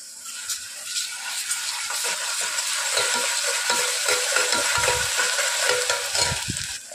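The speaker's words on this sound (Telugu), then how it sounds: "మనం వేసిన అల్లం వెల్లుల్లి పేస్ట్ కూడా ఆయిల్లో బాగా ఫ్రై అవ్వాలి" Ginger garlic paste and onions frying in oil for a mutton and brinjal curry, a steady dense sizzle held close throughout, with soft stirring knocks and scrapes underneath.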